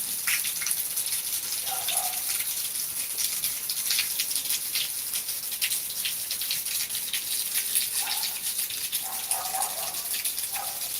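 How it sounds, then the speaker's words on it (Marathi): Heavy rain pours down steadily in Beed, a dense, continuous wash of falling water with no pauses, close and fairly loud throughout. "एवढा पाऊस आहे सध्या आणि पाऊस काय आता थांबायचं नावच घेत नाही"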